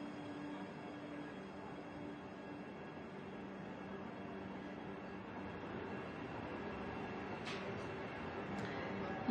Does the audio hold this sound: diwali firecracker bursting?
no